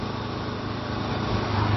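Honda CL500 Scrambler motorcycle engine droning steadily while riding on a late-season road, a close continuous buzzing hum with wind noise and no talk.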